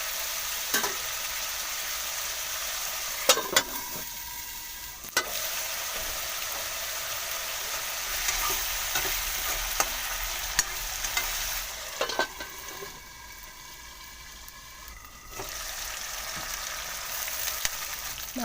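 Pork pieces fry in a pan for an Assamese curry, giving a steady close sizzle with a few sharp scrapes and clatters of stirring scattered throughout.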